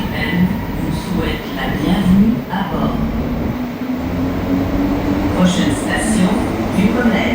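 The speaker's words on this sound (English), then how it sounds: "we're officially on the midnight train" An AZUR metro train on Montreal's Orange Line rolls along at midnight, a continuous rumbling ride with steady wheel and track noise and faint high squeals heard from inside the car.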